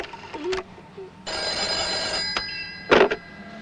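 A telephone rings in an interior scene, one long electronic ring burst lasting over a second, then brief short tones, with voices speaking before and around it.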